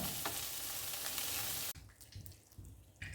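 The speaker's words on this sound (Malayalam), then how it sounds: "ഇനി അടുത്തതും അതുപോലെ തന്നെ നമുക്ക് സ്ക്രാമ്പിൾ ചെയ്തെടുക്കാം." Eggs being scrambled in a hot pan for an egg rice lunch-box dish: steady loud sizzling for the first half, then an abrupt drop to quieter frying with intermittent scraping and stirring.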